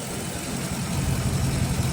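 A Dodge Charger SRT Scat Pack with the 392 Hemi V8 idles with a deep, steady, loud rumble, close and unbroken.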